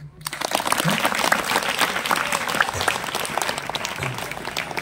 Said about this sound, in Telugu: ఒక అద్భుతమైన ధ్యాన శక్తికి ఒకసారి చప్పట్లు కొడదాం